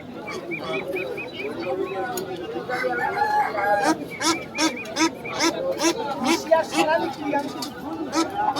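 A rooster crows repeatedly amid clucking fowl at a busy open-air haat in Basirhat, with steady crowd chatter and people talking close by throughout.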